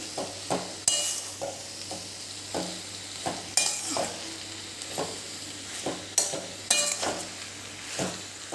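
A spatula scrapes and taps repeatedly through noodle and vegetable spring roll filling in a pan, rhythmic stirring strokes over a soft, continuous frying sizzle, close and clear with no speech.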